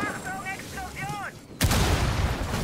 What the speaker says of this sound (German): Achtung, Explosion!